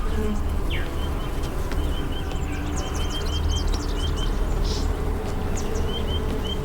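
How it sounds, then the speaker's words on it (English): Cyprian honey bees drone steadily around their hives, a constant close buzzing with faint bird chirps over it. "Cyprian bees. There's a lot of activity here, but nothing unusual."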